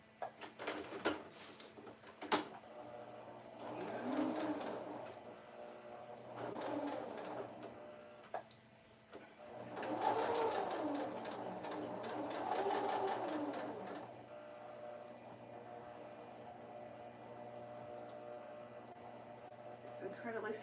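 A sewing machine runs a straight stitch across a quilt in bursts, with rapid mechanical chattering that starts, speeds up and stops several times, close and clear, between quieter pauses where someone talks softly.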